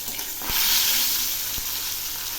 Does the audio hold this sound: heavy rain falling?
no